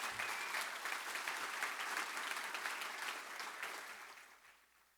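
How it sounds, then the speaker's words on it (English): An audience at a summit applauds in a dense, even wash of clapping that holds steady and then fades out toward the end, with no voices over it. "you can clap for yourselves for that"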